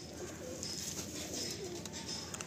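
A male Madrasi or Giribaj pigeon coos softly in a low, throaty rolling call, a couple of short coos over steady background hiss.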